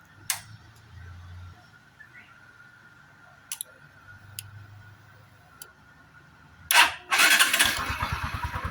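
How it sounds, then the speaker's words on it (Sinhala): A motorcycle, being checked for battery charging faults, ticks and clicks quietly for several seconds before the starter catches with a sharp burst. The engine then settles into a close, steady, throbbing idle. "බයික් එක ස්ටාර්ට් කරද්දි"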